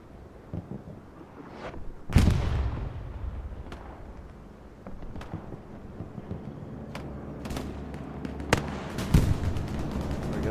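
Bombing run explosions rain down on an airhead at Utah Beach in Hell Let Loose, with a large blast early and scattered booms and sharp cracks of gunfire continuing around it, loud and reverberant.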